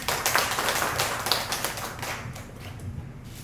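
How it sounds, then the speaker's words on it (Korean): A class in a theology school applauding a professor's gift of poetry books, with scattered light clapping, a quick patter that thins out within a few seconds. "박수 한번 주세요."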